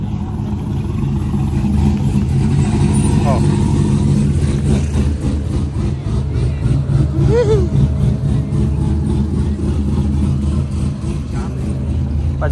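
A Corvette engine runs at a Friday night car meet, a loud, deep rumble with revs that rise and fall over steady idling, people talking faintly in the background.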